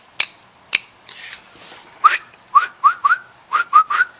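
A series of short, rising whistles into a whistle sensor, about nine chirps in an uneven rhythm, preceded by a couple of sharp snaps, close and clear.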